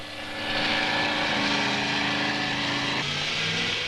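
A jet-powered rigid circular rotor runs on a mobile testbed along the Farnborough runway, giving a loud, sustained roaring drone that swells early and holds steady, with a slight shift in tone near the end.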